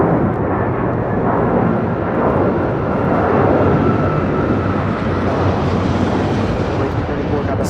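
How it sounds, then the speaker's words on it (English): A JetBlue Airbus A321 takes off from LAX bound for Newark, a loud sustained jet engine roar with broad rumbling thrust that holds steady and slowly shifts as the aircraft climbs away. "1874 taking off to Newark on an A321"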